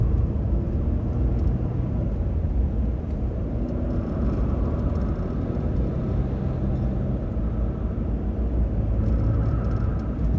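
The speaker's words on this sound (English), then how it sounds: "this is a V6, so it's smooth, it accelerates nicely and smoothly" Inside a 2022 Toyota Highlander XLE V6 while it accelerates, a steady low engine and road rumble drones throughout, even and smooth, with no talk.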